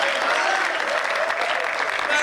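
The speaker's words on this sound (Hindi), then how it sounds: "एक बार ताली बजाओ आगे से पीछे तक" Audience applause at a Hindi comedy poetry event, a dense, steady wash of clapping from a large crowd that holds for the whole moment.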